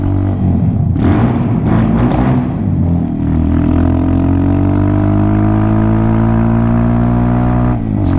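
Hawk DLX 250 motorcycle engine fitted with a new exhaust, riding on the road: a loud, steady engine drone with rising revs as the bike accelerates, continuous throughout with no talk.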